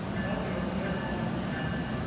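A South Shore Line Highliner train rumbles into Millennium Station as a steady, dense low rolling noise with a faint tonal whine, continuous and fairly close.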